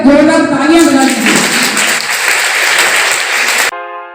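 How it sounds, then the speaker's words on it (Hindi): Loud, dense clapping from a crowd at a college Miss Fresher contest in Nawalgarh, India, sustained for several seconds, with a voice briefly audible at the start before it cuts off abruptly. "आप सभी मेरी बात से सहमत हैं तो जोरदार तालियां बजा दीजिए।"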